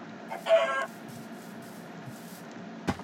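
A single chicken clucks briefly in the Minecraft video game, fairly clear over a quiet background with a faint low hum, followed by a short soft thud.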